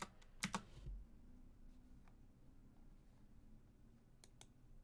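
Quiet keystrokes on a computer keyboard while entering a zip code into an online restaurant order form, a short cluster of clicks near the start and a couple more near the end, faint and alone.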